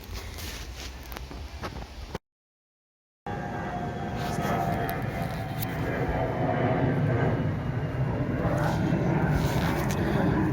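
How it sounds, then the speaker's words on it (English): A plane passes over an allotment garden as a steady, broad roar that builds slowly and holds at a moderate level, with faint rustling nearby. "Another plane heading off somewhere."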